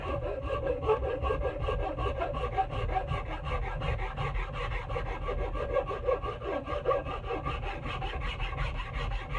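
A rasp works a wooden axe handle to fit the head, steady rhythmic scraping strokes close up, coarse and continuous with no talk.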